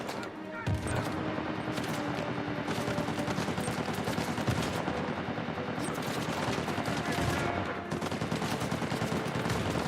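Gunfire in the video game Uncharted: Legacy of Thieves, with rapid bursts of shots fired steadily over a dense, loud backdrop of game combat.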